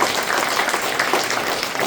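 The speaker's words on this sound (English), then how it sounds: "A round of applause for Ryan as well." An audience at an Ubuntu user group event in New Zealand breaks into dense, steady applause, many hands clapping together at close range throughout.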